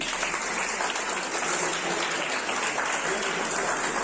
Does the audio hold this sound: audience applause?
yes